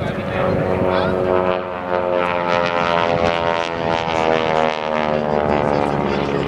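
Propeller stunt plane flying aerobatics at a California airshow, a loud, sustained engine drone with a rich buzzing tone that swells slightly as it passes, with an announcer talking over it.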